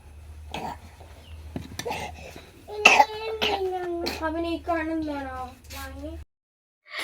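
A small child coughs several times in short bursts, mixed with high-pitched childish vocal sounds, close and fairly quiet.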